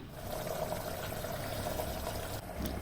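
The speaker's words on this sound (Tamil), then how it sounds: "அந்த புளி தண்ணியும் இதில் சேர்த்து நல்லா கொதிக்க விடலாம்" Steady bubbling and simmering of curry leaf curry with tamarind water in a pot, a continuous low churning hiss with no talking.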